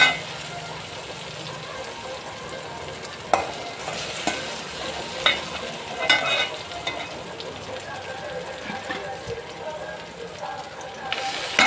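Onions sautéing in a pan for an oyster mushroom gravy, a steady close sizzle with intermittent stirring scrapes and occasional sharper clicks of a utensil against the pan.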